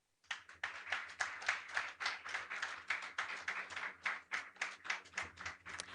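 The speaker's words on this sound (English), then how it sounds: "Please, let's continue clapping for him." An audience claps at a public lecture in welcome of the chairman, steady moderately distant applause with rhythmic overlapping claps that carry on throughout without speech.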